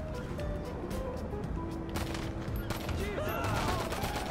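Video game gunfire during a giant hide-and-seek match, with bursts of rapid shots and scattered single cracks over a busy background, while a player talks in between.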